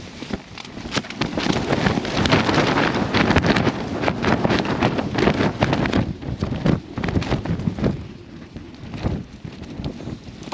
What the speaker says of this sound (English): This wind is really kicking off.